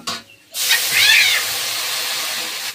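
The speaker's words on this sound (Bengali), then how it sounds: "তো তেলটা আমার হয়ে গিয়েছে, এবার জল ঢেলে দেবো।" Water poured into hot oil in a pan for a fish curry, bursting into a loud, steady hissing sizzle after a brief quiet start and holding strong throughout.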